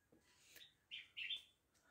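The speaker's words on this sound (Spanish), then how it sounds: "escuchar el sonido de los pájaros es maravilloso" Two short bursts of high bird chirping rise over a quiet outdoor background, with a fainter chirp just before them.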